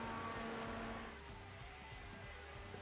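Indycar race cars roar around a track at night in a racing video game, a steady engine drone with pitch shifts from cars crossing the line, fairly quiet and without talk.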